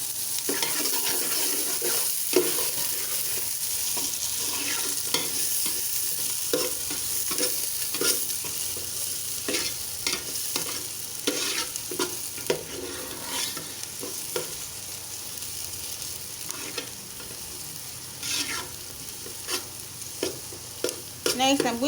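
Onions fry in hot oil for spring roll filling, a steady close sizzle broken by frequent scraping stirs, with no talking.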